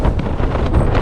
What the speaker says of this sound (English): the last half an hour has been quite windy